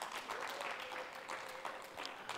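A church congregation clapping during a live prayer and fasting service, a fairly faint, steady patter of many hands that runs throughout.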